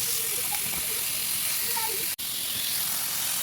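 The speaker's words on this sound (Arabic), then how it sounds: "ونشوي البروشيت" Chicken brochettes sizzle on a hot grill pan, a steady close hiss with faint crackles and pops throughout, cut by one brief dropout.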